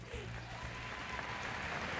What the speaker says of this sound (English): Let's give them a round of applause first, all right?